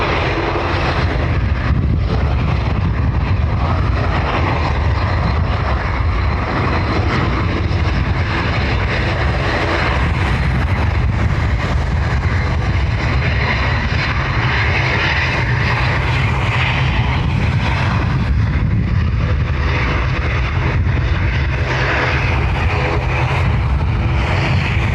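A heavy airliner roars down runway 10R at Dublin Airport on takeoff, a loud sustained engine rumble and whine that holds steady and strong throughout, heard from nearby.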